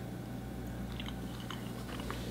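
Someone chews a mouthful of Minnesota tater tot hot dish, crispy tater tots with creamy mushroom soup over meat, giving repeated close, quiet crunching bites over a steady low hum.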